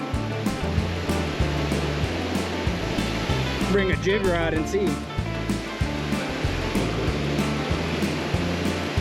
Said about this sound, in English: Hopefully the audio is not terrible with that waterfall right there